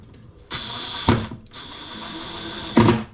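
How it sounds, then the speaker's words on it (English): A screwdriver ratchets while driving a screw to mount a dish rack on a tile backsplash, giving two brief bursts of clicking about two seconds apart, each ending in a sharper louder rasp. "Don't let it ratchet like you just heard there."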